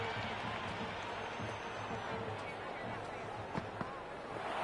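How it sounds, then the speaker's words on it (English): A packed cricket stadium crowd at a Lahore Qalandars versus Islamabad United PSL match roars in a dense, continuous wall of cheering and noise, with a couple of sharp bangs near the end and commentary faintly underneath. "It's almost palpable, the excitement emanating from this crowd at the moment."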